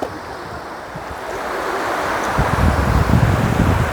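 Sea waves roll in at Murud beach in Dapoli, a steady wash of surf that swells louder toward the end, mixed with wind buffeting the microphone and no voices.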